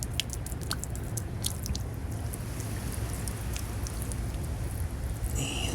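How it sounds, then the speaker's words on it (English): Seawater draining from a salt-cured rum barrel, a constant wet trickle with scattered crisp drips and splashes over a steady watery hiss, close up. "Nearing the end here, last few drips and drabs of seawater."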